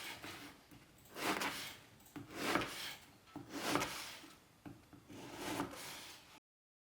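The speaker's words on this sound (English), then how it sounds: "I slice 2 rolls at a time into pieces about an inch thick." Knife sawing through soft bread rolls two at a time, cut into thick pieces for an apple bread pudding; a close, gentle series of rough, rasping strokes in uneven bursts, fairly quiet, with no talk.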